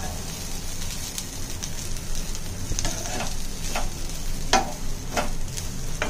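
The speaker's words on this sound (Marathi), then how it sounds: "एक ते दोन मिनिट फक्त परतवून देऊया आणि मग गॅस बंद करूया." Spice paste for a misal curry fries in a pan, with a steady close sizzle broken by repeated scraping and stirring clacks of a spoon against the pan.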